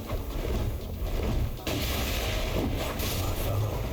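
Boss magic explosion in Elden Ring, a continuous roaring blast with a sharp renewed burst midway, loud and sustained throughout.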